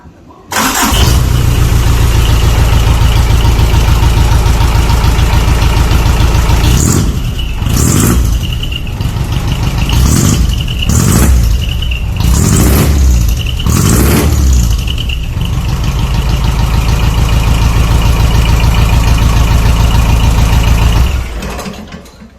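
A Mitsubishi Canter truck diesel engine with a modified split exhaust manifold, loud and close, idling with a steady rumble and then revved in several sharp bursts before settling back to idle.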